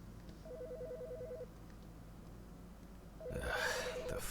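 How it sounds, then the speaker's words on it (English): A telephone rings twice in the Autopsy Simulator PC game: a bright electronic warbling trill near the start, a pause, then a second burst as a louder rustling noise rises over it. "The fucking phone."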